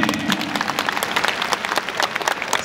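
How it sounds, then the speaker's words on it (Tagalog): A crowd applauds the Basilan basketball team at the opening of a league season, a dense burst of clapping that fills the short moment. "Palakpak sa Basilan team!"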